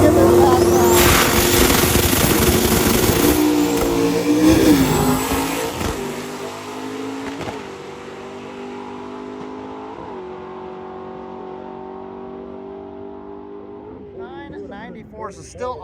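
A race car roars loudly through a drag strip pass at a drag week event, the engine revving hard and rising through gears before fading into the distance, with people talking nearby.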